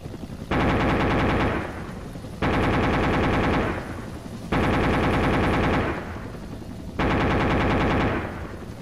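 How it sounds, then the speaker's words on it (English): AH-1W Cobra helicopter gun in a video game fires four long rattling 40-round bursts in steady succession, each a dense loud roar of rapid shots with brief gaps between. "Each of you is going to fire a 40-round burst."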